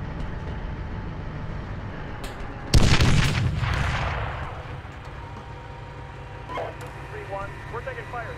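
A single loud artillery impact or cannon blast in the Steel Beasts Pro tank simulator, rolling off into a long rumble over a steady vehicle engine drone, with faint radio voices afterward.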